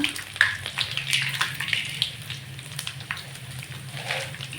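Garlic and roasted gram sizzle in hot oil while tempering for puffed rice (mandakki oggarane): a close, steady frying hiss with crisp crackles and pops throughout.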